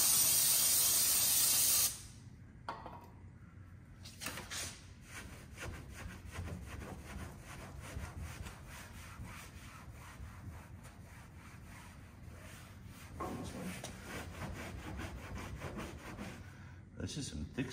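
Coarse 60-grit sandpaper rubbed by hand over metal, a steady close scratchy rasp running for most of the stretch after a brief loud hiss at the start.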